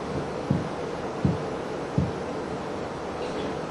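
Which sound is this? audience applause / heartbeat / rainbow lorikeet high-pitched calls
heartbeat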